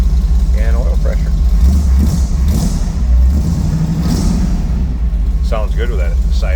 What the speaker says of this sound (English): Sounds good with that side exiting exhaust.